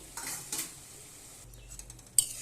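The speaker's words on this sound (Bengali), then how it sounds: "এবার আমি ভালোভাবে কষিয়ে নেব আলুটাকেও" Boiled potato being sautéed and stirred in a pan of dal gravy, soft intermittent scraping and light sizzle, faint and close, with a sharper clink of utensil near the end.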